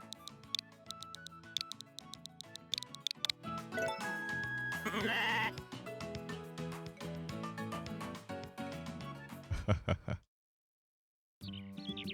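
Sheep bleating in the farming video game Story of Seasons, with repeated bleats over upbeat game music that cuts off briefly near the end.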